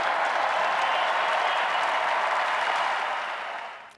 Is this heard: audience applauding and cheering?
yes